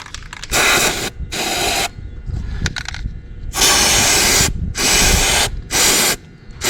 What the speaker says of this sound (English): we're going to be spraying lithium grease up in there